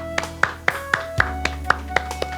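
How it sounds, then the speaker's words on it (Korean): A Korean church congregation at a Wednesday worship service clapping in thanks to God, a sparse run of about ten distinct claps in loose rhythm over a sustained musical drone, moderately loud. "하나님께 감사의 박수 올리겠습니다"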